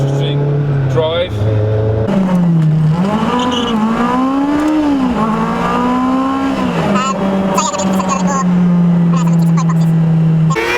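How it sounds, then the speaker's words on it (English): A Toyota MR2 fitted with a Honda K20 engine climbs and descends mountain switchbacks, its engine note rising and falling steadily through the gears, loud and close throughout, with occasional talk over it. "Just going for a nice little leisurely drive."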